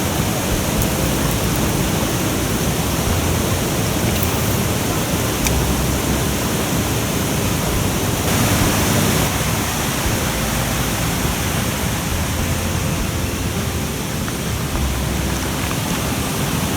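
A creek waterfall on Slick Rock Creek near Calderwood Lake rushes loudly and constantly, with nothing else heard over it.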